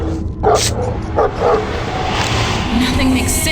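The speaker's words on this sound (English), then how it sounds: "Nothing gets between me and the hounds." Hounds bark and yip in The Suffering: Ties That Bind, several sharp barks bursting over a dense game soundscape, with a voice mixed in at moments.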